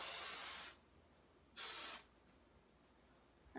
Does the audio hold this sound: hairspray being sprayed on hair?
yes